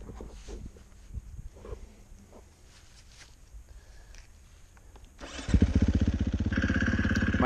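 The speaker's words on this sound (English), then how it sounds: "This is one of the first rides on my new KTM 450 XCF." A 2018 KTM 450 XC-F dirt bike: quiet idling and faint knocks at first, then the engine opens up loudly with a buzzing, rising four-stroke drone close by.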